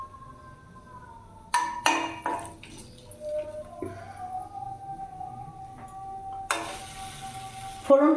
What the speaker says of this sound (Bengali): এরই মধ্যে আমি এখানে ফোড়নে দিয়ে দিলাম দুটো এলাচ আছে, দারচিনি আছে, লবঙ্গ আছে,